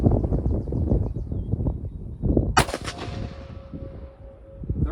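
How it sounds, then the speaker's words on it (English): A single loud, sharp gunshot from a .45 Super pistol load at an outdoor range at 25 yards rings out midway, its echo trailing off, after low rumbling handling noise. "So after we shoot the 45 Super"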